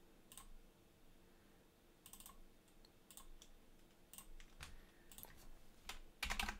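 Computer keyboard typing while a Quartus FPGA project is being created, quiet bursts of clicking keystrokes with pauses, close and fairly faint, ending in a quick flurry.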